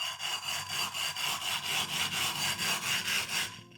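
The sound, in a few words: flattening a dished 220 grit Naniwa water stone, abrasive powder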